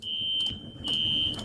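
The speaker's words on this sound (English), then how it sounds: "That is the fire alarm in my condo going off." A condo smoke-style fire alarm shrills close by in two long piercing electronic tones separated by a brief dip, loud and steady with no voices.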